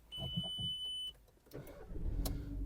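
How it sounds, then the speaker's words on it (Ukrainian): A steady electronic beep sounds for about a second, then a Volkswagen Golf engine cranks and catches, its rumble rising and settling close by. "Двигун запускається чудово, помилок немає."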